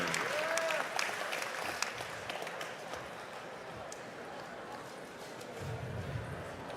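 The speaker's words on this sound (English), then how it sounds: "And a round of applause to his opponent, Josh Neer." A crowd claps and cheers steadily throughout, a dense wash of applause in a large arena with some shouting mixed in.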